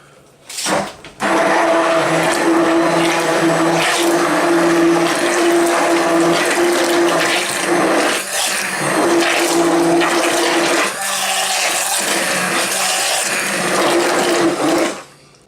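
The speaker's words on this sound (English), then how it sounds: "just blend that all together" A blender whirs loudly and continuously while mixing muffin batter with banana, pumpkin and chocolate chips, after a brief short pulse, running steadily for about thirteen seconds with slight dips in pitch before stopping.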